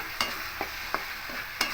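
Potatoes stir-fried with fish in a pan for banana-flower ghonto: a steady sizzle broken by about five distinct scraping strokes of a spatula, close and moderately loud.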